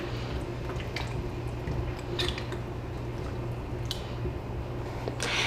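Water is poured into a Dutch pot over oxtail for a Jamaican oxtail and butter beans dish, a continuous liquid splashing and dripping with a few brighter splashes, close and alone.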